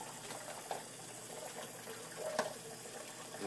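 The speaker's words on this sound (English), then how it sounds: "Rinse off the bowl." A kitchen tap runs while dishes and a bowl are rinsed, a faint steady water stream with small clinks and splashes.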